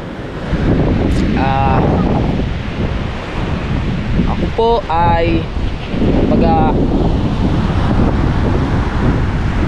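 Sea waves and steady wind at a beach in Bukana, Philippines: a continuous loud roar of surf with heavy wind buffeting on the microphone, and someone speaking over it in brief stretches.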